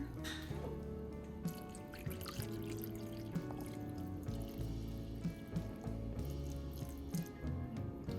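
Water trickles and drips steadily into a pan of Swiss chard and beans, a soft continuous liquid sound with small splashes, fairly quiet and close, without speech.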